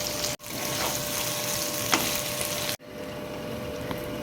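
Marinated chicken sizzling steadily in hot oil in a kadai, a continuous close crackle with brief stirring interruptions.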